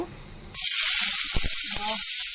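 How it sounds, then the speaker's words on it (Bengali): Sliced onions hit hot frying oil after potatoes have been fried in it, an abrupt loud burst of close sizzling that holds as a bright steady hiss, with a few faint knocks underneath. "এখন যেটা করবো সেটা হচ্ছে পেঁয়াজ দিয়ে দিব।"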